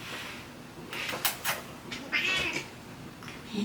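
A cat meows several times nearby, short rising cries spaced over a few seconds against a quiet room hum.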